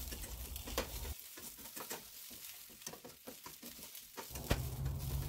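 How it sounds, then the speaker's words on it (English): Rice for Mexican arroz rojo is stirred and fried in a pan, with a faint sizzle under a run of quick, irregular scraping strokes of the spoon against the pan. "Now just keep moving and mixing your rice so it won't burn."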